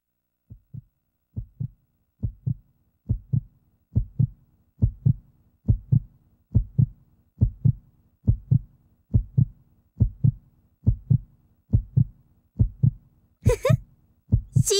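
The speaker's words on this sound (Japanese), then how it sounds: "心臓がドキドキいってるわよ。" A heartbeat sound effect from the PS2 game Akai Ito, steady low double thumps repeating about every eight-tenths of a second for the whole stretch, with a voice breaking in briefly near the end.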